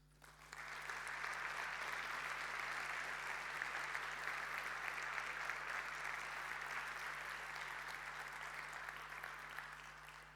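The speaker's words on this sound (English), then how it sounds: "could you please stand up so we can give you a round of applause?" Conference audience at an Eclipse community event applauding the program committee, a sustained, even wash of many hands clapping together that swells in and holds steady for about ten seconds, heard from a distance.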